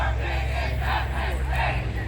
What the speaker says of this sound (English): the protesters are always benefited by the fact that they're able and willing to yell extremely loudly over and over again